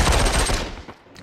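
Rapid gunfire in the VR battle game Population One, a short loud burst of automatic shots tailing off into a quick echo.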